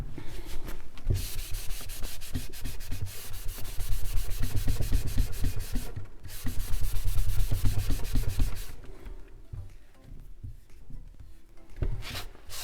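Cloth rubbing off excess wax from a chalk-painted surface, a steady scratchy scrubbing in quick back-and-forth strokes, loud and close, pausing briefly before easing into lighter, sparser rubs.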